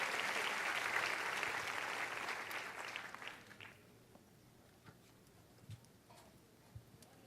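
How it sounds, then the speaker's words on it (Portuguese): A church congregation claps loudly together for about four seconds, then the applause fades away, leaving a quiet room with a few scattered faint knocks. "dê um forte aplauso ao Senhor"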